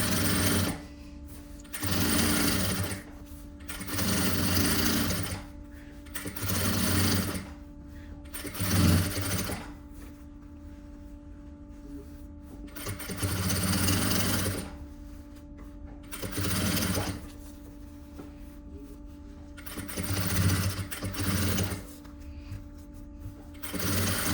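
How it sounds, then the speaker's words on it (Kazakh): A sewing machine stitches a vest lining seam in about six separate bursts of rapid, buzzing stitching, each a couple of seconds long, separated by quiet pauses and heard up close without speech. "Міне мынау тігістің түбіне тігіс түсті."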